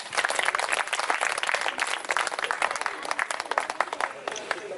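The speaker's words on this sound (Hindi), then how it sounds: "सभी को मैं कहूँगी कि थोड़ा प्रभु के लिए एक बार ताली बजा दे।" An audience at a Christian devotional gathering applauds in a dense, sustained round of clapping, close and fairly loud, lasting the whole stretch with a murmur of voices underneath.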